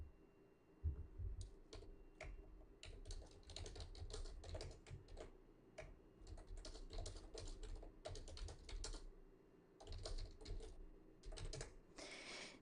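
Quiet, rapid tapping on a computer keyboard during an online meeting, with irregular bursts of keystrokes and short pauses between them.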